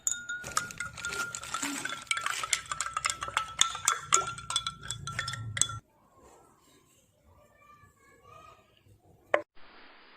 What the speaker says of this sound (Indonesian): kemudian aduk hingga rata.